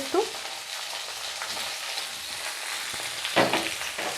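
Boiled potatoes frying in oil in a pan with a five-spice seasoning for a pea and potato dish: a steady close sizzle and crackle throughout, broken by a few louder scrapes of stirring near the start and again later, with no voices.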